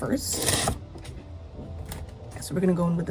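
A bottle of Essence Fix and Last setting spray is shaken in a short, bright rattling burst at the start, followed by quieter handling while someone talks.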